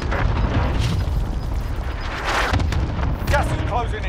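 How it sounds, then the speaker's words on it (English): An allied cluster strike lands in a video game as a series of rumbling artillery blasts with crackling bursts, close and fairly loud, while a voice talks over the impacts. "Allied cluster strike inbound."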